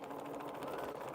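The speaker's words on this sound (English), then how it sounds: "So I'm sewing these on a diagonal because I think the seam will be less obvious than if I sewed it straight across" A sewing machine stitches a seam on a diagonal, its motor humming in a steady close whirr for a brief moment, fairly quiet.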